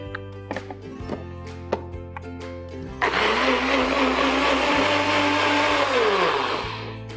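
A blender churns homemade cashew milk with maple syrup and cinnamon, starting abruptly after quiet kitchen clinks and whirring loudly and steadily for several seconds before easing off at the end.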